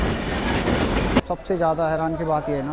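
A train at Howrah Junction railway station gives a loud, steady rumble of rolling wheels that cuts off abruptly, after which someone talks close to the microphone over the quieter station background.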